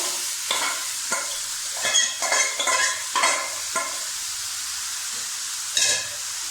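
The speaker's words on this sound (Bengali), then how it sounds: "পেঁয়াজ ভাজা হয়ে গেছে, দিয়ে দিচ্ছি সেদ্ধ করা কপি" Onion and boiled cabbage sizzle in a hot pan while a spatula scrapes and stirs in a series of short, uneven strokes.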